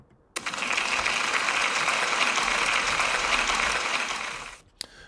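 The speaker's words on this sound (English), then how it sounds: "Can we give Jensen a big round of applause, please?" An audience at a school celebration claps for a pupil, a dense and steady burst of applause that starts abruptly, holds evenly for about four seconds, then fades out, followed by one stray clap.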